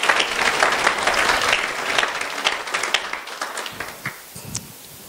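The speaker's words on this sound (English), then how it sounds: "I'd ask you to give a round of applause" A conference audience applauds steadily, a dense wash of clapping that gradually thins out and fades toward the end.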